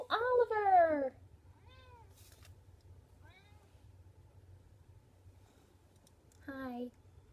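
A house cat meows several times nearby, a loud drawn-out call followed by softer chirps and a final clear meow, with faint clicking in a quiet room between the calls.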